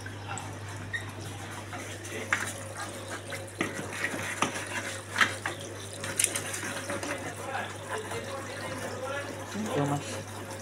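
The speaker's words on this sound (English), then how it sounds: "Let the water goes." Water from a tap runs while a duct on an LG automatic washing machine is cleaned, a soft continuous splashing with occasional louder spatters and a steady low hum underneath. A voice speaks briefly over it.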